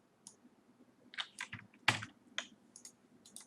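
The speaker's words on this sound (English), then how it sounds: "We type this first command right here" Irregular key clicks from a computer keyboard as a command is typed into a terminal, close and fairly quiet, with short bursts and pauses and no talking.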